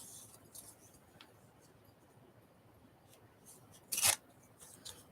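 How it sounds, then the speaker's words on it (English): Scissors snipping through glossy magazine paper for a collage, a quiet room with one sharp, close cut standing out near the end and faint rustling before it. "There are stuff stuck all over my scissors, though, from cutting off the edges of gluey stuff."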